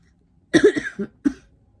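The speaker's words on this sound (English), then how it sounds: "clearing my throat and everything" A person recovering from brain decompression surgery clears their throat in a few short, rough bursts, close by, followed by quiet.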